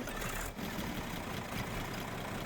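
A Deutz-Fahr 8006 tractor engine in Farming Simulator 22 runs steadily at idle, a dense, even engine drone with no voices over it.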